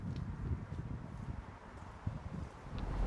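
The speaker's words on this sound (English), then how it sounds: "as you can see, it's really windy" Gusty wind beside a lake, low rumbling buffets on the microphone with faint rustling, quiet and continuous with small swells.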